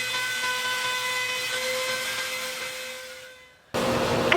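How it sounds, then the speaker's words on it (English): A Dremel rotary tool carves wooden bow ties with a steady high-pitched whine that holds evenly, fades briefly, then cuts back in strongly at the end, with no talking. "I find it easier to control when pulling the Dremel towards me"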